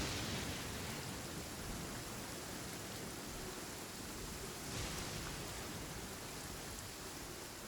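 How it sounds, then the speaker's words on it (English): Heavy rain falls in the Genshin Impact video game, a dense, steady hiss that holds at an even level for the whole stretch with no voices over it. "This heavy rain must be quite an inconvenience for you."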